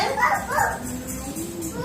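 A human voice imitates a dog barking, giving a couple of short yapping barks during a children's lesson on identifying animals, loud and close, followed by a drawn-out vocal tone.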